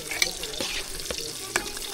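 Water splatters and sizzles in a cooking pot while a fish-head soup is being made for supper, with a continuous wet hiss broken by a few sharp pops.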